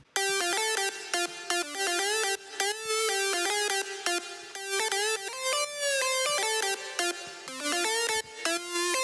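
A bright electronic EDM lead synth built from Splice samples, playing a busy melodic line of rapid stepped notes with short gaps, loud and up front with no voices.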